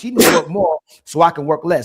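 A single sharp sneeze bursts out right at the start, close and loud, and a voice talks just after it.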